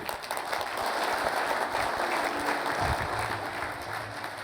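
Audience applause at an engineering conference keynote as the speaker takes the stage, a dense, steady wash of many hands clapping that fills the room at a moderate level throughout.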